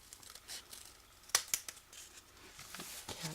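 Scissors snip through paper while an origami large flower is trimmed: two crisp, close cuts in quick succession amid soft paper rustling, quiet overall.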